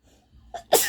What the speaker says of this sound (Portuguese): eu acho que eu quero espirrar